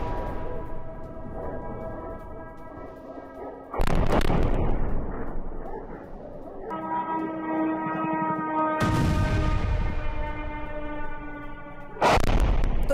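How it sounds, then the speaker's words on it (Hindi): Explosions from Russian drone attacks on the Ukrainian port city of Odesa boom out as heavy, roaring blasts that repeat, with long rumbling, crackling tails between the loud bursts and no voices. "यूक्रेन की पोर्ट सिटी ओडेसा में धमाका, जहां रूस के ड्रोन हमलों से दहला ओडेसा।"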